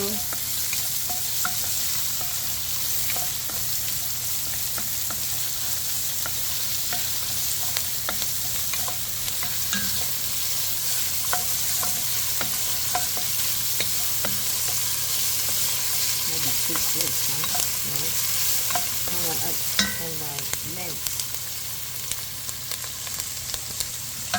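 Onion frying in a pan for a turkey kofta curry, a loud continuous sizzle with occasional scraping and clinks from stirring over the whole stretch.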